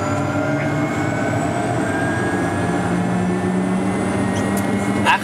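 A Pilatus PC-12 NG turboprop turbine spools up just after ignition, a steady loud whine with rising tonal lines over a dense low rumble that continues throughout.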